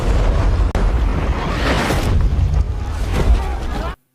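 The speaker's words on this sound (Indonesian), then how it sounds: "Akan tetapi sebelum sampai, mereka disambut bom gas beracun dari Prancis." A poison gas bomb explodes in a World War I battle scene, a loud sustained boom with rumbling, dense roar that rolls on for several seconds before cutting off sharply.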